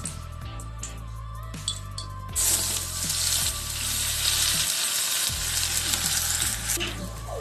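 Green peas tipped into hot ghee for poori filling, a loud sizzle bursting in after a few seconds of clinking and stirring, then hissing steadily to the end.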